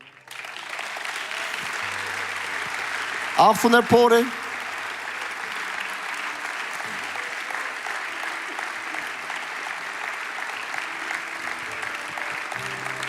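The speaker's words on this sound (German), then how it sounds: "Darum lasst uns schon mal der Person einen Applaus geben, die jetzt kommt." Sustained audience applause at an ICF Sunday Night church service, an even wash of clapping from a large crowd that lasts throughout, with a brief spoken phrase cutting in near the start.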